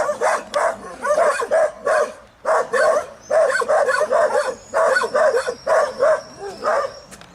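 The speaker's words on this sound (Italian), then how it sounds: "Che bellini questi cani." Several dogs bark in rapid, rhythmic bursts nearby, with yips and whimpers mixed in over a quiet outdoor background in muddy countryside near Quartu Sant'Elena.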